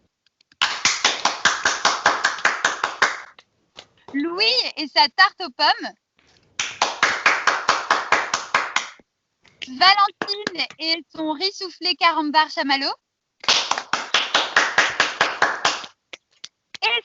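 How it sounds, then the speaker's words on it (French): Young cooks' audience gives bursts of rhythmic clapping, loud and close, alternating with a voice speaking between the rounds. "Noah, que vous pouvez applaudir."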